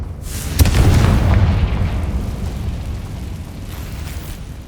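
A fire spell detonates in the Hogwarts Legacy video game, a single heavy boom with a sharp crack that swells into a long rumbling roar and slowly fades, loud and close, with no talking.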